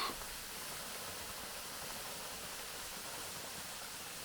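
The Değirmendere waterfall in untouched wild terrain near Dağlı village roars as an even, unbroken rush of falling water, steady and fairly soft, with nothing else audible.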